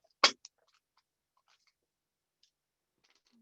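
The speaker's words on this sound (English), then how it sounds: "So I'm using the precision scissors to cut." A single crisp snip of precision scissors cutting beading thread for a flat chenille stitch bracelet, near and alone in a quiet room, followed by faint small ticks.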